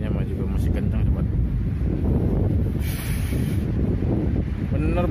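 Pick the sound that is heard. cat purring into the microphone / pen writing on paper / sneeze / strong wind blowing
strong wind blowing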